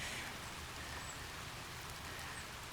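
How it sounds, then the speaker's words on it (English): Dense, steady hiss of rain falling, even and continuous with no talking. "And it looks like it's raining,"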